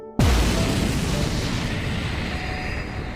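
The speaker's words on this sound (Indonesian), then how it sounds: "Suara ledakan bergema di kejauhan, mengguncang tanah dan menyebarkan ketakutan yang kian mencekik nafas." An explosion from a war scene near an airfield booms suddenly after a brief silence. A deep, heavy blast is followed by a long rumbling roar that slowly fades, with no voices.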